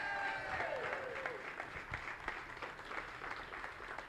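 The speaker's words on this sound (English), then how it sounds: "big round of applause for everybody" Applause from the audience greeting the final table players at a live poker tournament, a steady patter of clapping with a few whistles and some background chatter, moderately loud and fairly close.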